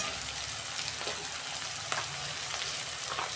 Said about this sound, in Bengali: তিনটে পেঁয়াজ কুচে রেখেছিলাম, এই তেলের মধ্যে দিয়ে দিচ্ছি